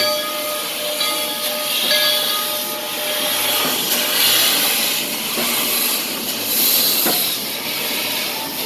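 A Calico Railroad steam locomotive at Knott's Berry Farm hisses steam in a loud, continuous broadband rush that swells and eases, with faint metallic tones beneath.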